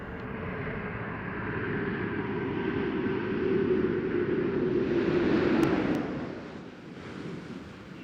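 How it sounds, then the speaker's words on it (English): Space Shuttle Endeavour on its STS-134 landing approach gives a broad, steady rushing roar like wind, swelling slightly toward the middle before easing off, heard from a distance with no voices. "there's a reverse camera view of the Space Shuttle Endeavour as it's coming in for a landing"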